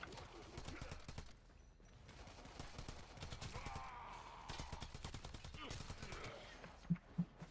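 Pistol fired at targets in a video game shooting challenge: a rapid run of sharp, close shots at a moderate level, with background voices and game sound underneath.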